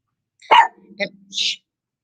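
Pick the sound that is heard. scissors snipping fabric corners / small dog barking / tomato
small dog barking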